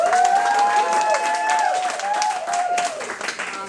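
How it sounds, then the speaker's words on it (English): Audience applause at a cake conference, a few seconds of clapping with some cheering over a busy crowd, voices talking and calling out on top, fading slightly toward the end. "Big clap"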